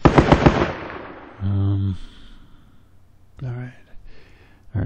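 Rapid bursts of automatic gunfire in a tactical military shooter game, loud and close at the start, followed by fainter scattered shots and short electronic tones, with someone talking over parts of it.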